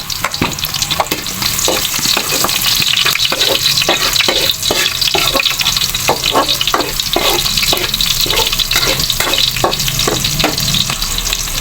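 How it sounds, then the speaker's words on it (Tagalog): Garlic and onion fry in a hot pan with a steady, loud sizzle, broken by repeated scraping clicks of stirring. No one speaks. "Maglalagay ako ng bawang. Susunod ko naman ang sibuyas."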